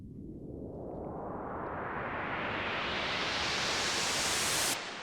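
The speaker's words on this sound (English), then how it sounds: "that's gonna create the little noise sweep we hear" A filtered noise riser from a software synthesizer sweeps steadily upward over five seconds, starting as a dull rush and opening into bright hiss before stopping abruptly.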